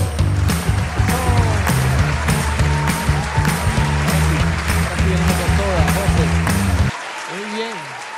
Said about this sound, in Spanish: Vamos a recibirlo con fuerte aplauso